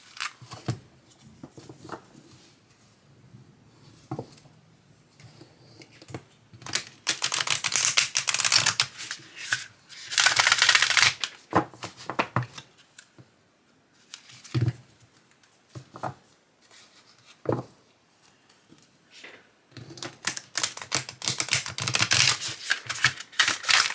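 Crisp riffling bursts of oracle cards being shuffled, several rounds separated by short pauses, close and fairly loud.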